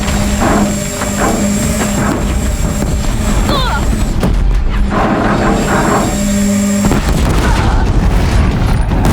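Disc launcher fire and explosions in the PS4 Pro game Horizon Zero Dawn, heavy booming blasts and bursts during a boss fight, loud and dense throughout, with a voice briefly talking over the action.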